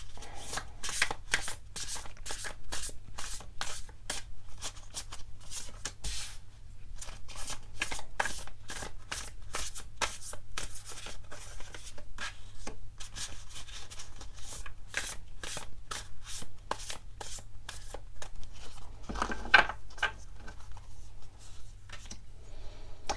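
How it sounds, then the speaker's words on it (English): Tarot cards are shuffled in long, rapid riffling runs of crisp flicks and slaps, close and steady, pausing briefly before resuming, with no talking. "Let's get some tarot cards."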